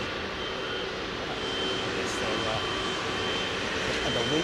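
A Cathay jet takes off from runway 09R at Heathrow, heard close-up as a broad, continuous engine roar that stays steady and loud throughout.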